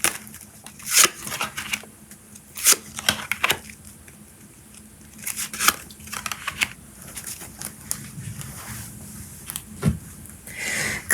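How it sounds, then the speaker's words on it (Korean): Tarot cards being shuffled and drawn, a series of soft papery flicks, slaps and crinkles in irregular bursts, close and fairly quiet, with no talking. "좋은 카드들을 좀 더 뽑아보도록 하겠습니다"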